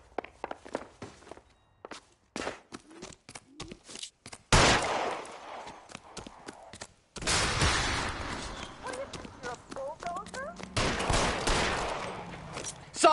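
Gunfire in L.A. Noire, with several sharp, loud shots and bursts breaking over footsteps and movement, while voices talk in between.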